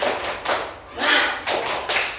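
Children in a classroom do a spirited clapping cheer: several loud, rhythmic bursts of group clapping and chanting, close by, with short gaps between them.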